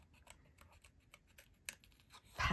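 Scissors snip through card while cutting out small flower petals for a handmade floral greeting card, a series of faint, close crisp cuts ending in a louder rustling snip.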